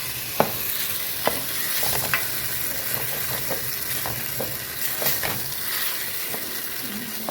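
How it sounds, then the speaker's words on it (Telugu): Tomato puree hits hot oil in a pan and fries with a steady, close sizzle, broken by a scatter of spoon-against-pan knocks as it is stirred. "బాగా వేగిన తర్వాత ఈ టమాటా ప్యూరీ వేసాడు."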